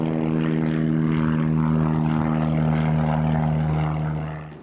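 A propeller airplane taking off from runway 32 right at an airport, its engine a loud, steady droning roar with a strong humming tone, close by and fading slightly at the very end.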